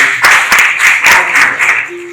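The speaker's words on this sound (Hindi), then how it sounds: "सब इस लड़की गुड़िया के लिए ताली बजाओ" A classroom of students claps for a girl, producing a loud, dense burst of applause that lasts about two seconds and then fades.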